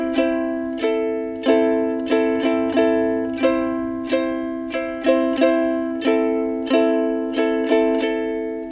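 Bright ukulele strums ring out in quick succession, with chords changing rapidly in an uneven, brisk rhythm, played alone and up close.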